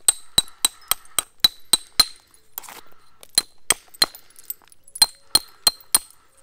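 A soft hammer strikes flint while knapping a stone dagger, sharp clinking taps in quick regular bursts, about eight in a row, a short pause with faint scraping, then another run of close, crisp hits.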